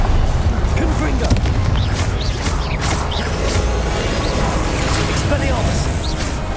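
Confringo blasting spells explode again and again in Hogwarts Legacy, making a dense, continuous wash of loud booming rumble and crashing debris with no quiet gaps.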